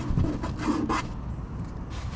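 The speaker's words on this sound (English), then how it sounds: "So I'm just gonna put some blue tape on the back side." Blue painter's tape pressed and rubbed onto the back side of holes in a boat hull, a short close run of soft rasping and rubbing strokes, loudest in the first second and then fading to quiet handling.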